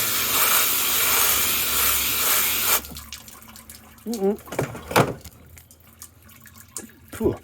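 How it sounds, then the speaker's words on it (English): Water gushes loudly from a tap in a steady hiss for a few seconds, then cuts off, leaving quieter handling sounds of a wet wool polishing pad and a brief voice. "let's turn the tap off"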